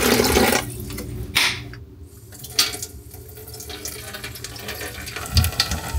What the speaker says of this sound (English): The water pressure is really slow because I think Sean is filling the animal troughs right now.